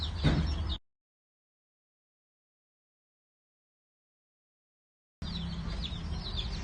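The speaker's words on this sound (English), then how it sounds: "As you can see, there's different little chicks" Small chicken chicks of mixed egg-laying breeds chirp in quick, high peeps, with a short burst at the start, then a long silence before the chirping returns.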